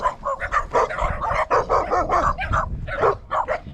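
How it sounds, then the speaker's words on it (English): Several dogs on an early spring hike in Mongolia bark loudly and close by, with yips and growling mixed into a continuous excited chorus. "They're growling at me like they don't know who I am."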